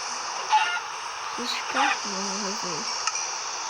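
Chickens in a Minecraft-style block-building game give a few short clucks and squawks, thin and moderately close, scattered over a steady background hiss while someone talks briefly.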